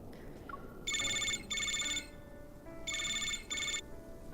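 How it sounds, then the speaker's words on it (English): A phone rings in a video game: two pairs of bright electronic ringtone bursts, quiet and close, over a faint hiss with no speech. "Suddenly, the phone rings."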